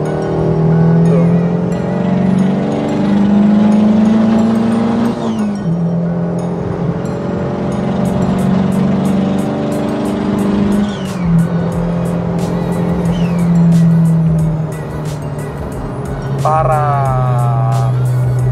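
A turbocharged Honda Brio with an L15A engine roars at top speed from inside the cabin, its loud, sustained engine drone shifting pitch between gear changes, with road and wind noise beneath and a voice talking over it.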